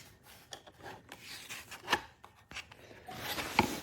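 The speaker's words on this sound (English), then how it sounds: "you have to cut this first groove off" A plastic groove being trimmed off an Evenflo stroller snack tray for a Pivot Explorer stroller: close, quiet scraping and rubbing strokes come in short uneven bursts, with a few sharper snips and a longer rasping pass at the end.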